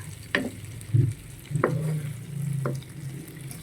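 Chicken sautés with garlic, onion and ginger in a pan, sizzling steadily up close. Three or four sharp scrapes and clacks of a stirring utensil break through the frying.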